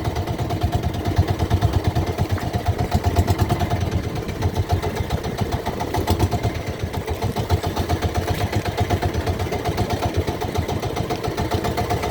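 A motorboat engine runs steadily and loudly up close, with a continuous rough, chugging throb and no pauses.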